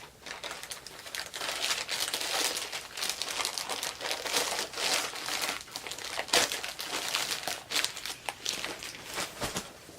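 A dance bag handled up close, crinkling and rustling continuously for several seconds with irregular crackly bursts and no talking.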